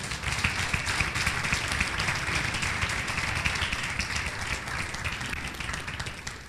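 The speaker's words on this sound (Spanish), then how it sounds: "Denle un aplauso al Rey." Congregation applause in a church service, dense sustained clapping from many hands filling the space evenly, loud and steady with no talk over it.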